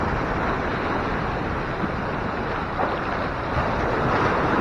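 A waterfall in Zambales pours onto shallow rocks, heard as a loud, steady broadband rush of splashing water that fills the whole clip, with no talking.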